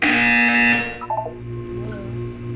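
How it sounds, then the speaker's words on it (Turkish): A loud electronic buzzer from the Portal 2 video game blares for under a second and cuts off, followed by faint electronic tones. "When you hear the buzzer, look up at the ceiling."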